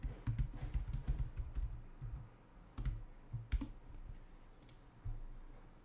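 Login credentials are typed on a computer keyboard as a close, irregular run of key clicks with brief pauses between bursts, and no one speaks.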